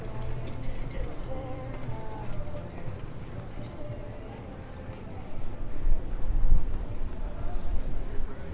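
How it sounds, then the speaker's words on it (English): Strong wind at the beach in Venice, Los Angeles, buffeting the microphone in a loud, continuous low rumble that swells in gusts, mixed with faint background voices. "This is always like the windiest area ever."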